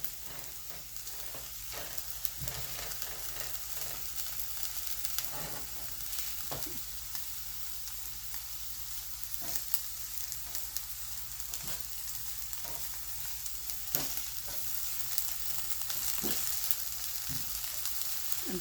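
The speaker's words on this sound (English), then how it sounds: "I want to get my onions sauteed." Onions sauté in a pan with a continuous soft sizzle, and a spoon occasionally stirs and taps against the pan. The sound is steady and close, with no talking.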